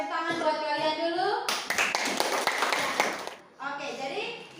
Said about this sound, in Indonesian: Ibu memberikan tepuk tangan buat kalian dulu.